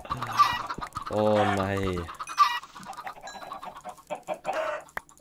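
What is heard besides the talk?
chickens clucking in Minecraft video game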